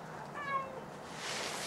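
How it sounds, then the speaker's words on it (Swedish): A cat gives one short, clear meow in a quiet room, followed by soft background hiss. "Kissen."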